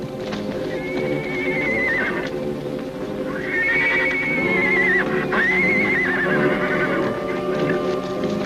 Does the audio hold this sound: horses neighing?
yes